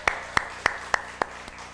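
A church congregation claps in thanks during a Korean service, six sharp evenly spaced claps in a steady rhythm, moderately loud and carried by room reverberation.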